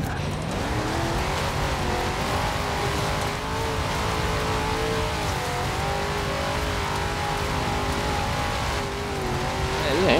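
A 1969 Dodge Charger Daytona roars through Forza Horizon 4, its engine note holding steady and rising and falling slightly as it races, loud and continuous.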